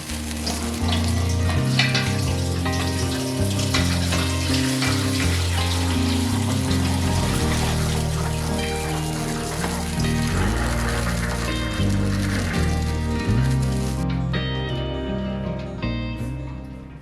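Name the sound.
dye bath poured through cheesecloth strainer into pot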